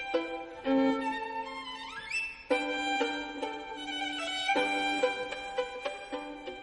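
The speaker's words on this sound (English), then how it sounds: "I paid violinists to play the most difficult music ever" A solo violin plays Paganini's variations on God Save the Queen, a fast, agile passage with quick runs, sliding high notes and sharp accented attacks, close and unaccompanied.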